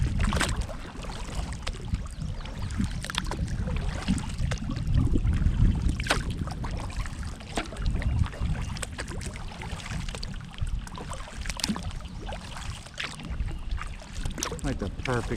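Kayak paddling on a high river near a confluence, with broadband water rush and wind noise filling the whole stretch and irregular paddle splashes over it.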